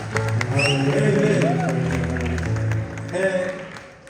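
Church worship congregation in Seattle breaks into a burst of applause that carries on for several seconds beneath a loud voice addressing the crowd, then tapers off.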